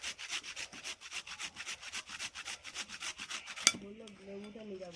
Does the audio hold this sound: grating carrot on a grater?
yes